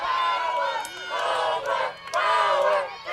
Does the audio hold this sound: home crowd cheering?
yes